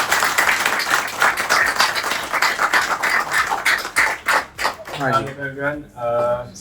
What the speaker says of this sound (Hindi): यार अरम के लिए तालियां बजाओ सब यार।